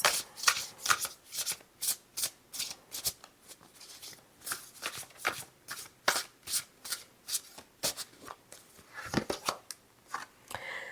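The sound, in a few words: shuffling a deck of tarot cards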